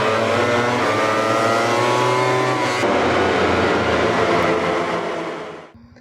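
A toy racing motorbike gives off a loud, continuous whirring engine drone that rises in pitch like revving, holding steady before cutting off abruptly near the end.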